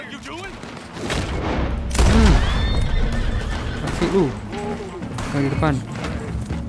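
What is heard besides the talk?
horse neighing and galloping in video game Red Dead Redemption 2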